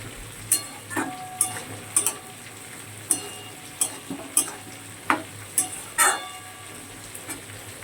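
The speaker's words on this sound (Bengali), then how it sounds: "আর একটু কষাবো, তারপরে অল্প একটু জল দিয়ে ফুটিয়ে নামাবো।" Chicken being stirred and fried in a pan, with a soft steady sizzle under repeated sharp scrapes and clinks of a spoon against the pan at irregular intervals, close and fairly quiet.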